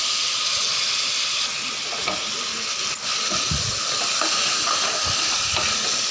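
Chicken frying in masala gravy for a pressure-cooker biryani: a constant close, loud sizzling hiss with occasional soft stirring clinks and bubbling pops.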